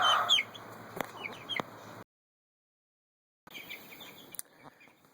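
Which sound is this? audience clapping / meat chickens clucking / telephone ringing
meat chickens clucking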